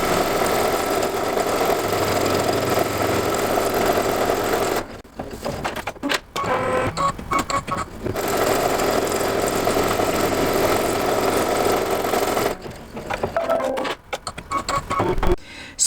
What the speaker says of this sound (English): Now we can see where it's going to stitch 2 placement lines for the white fabric.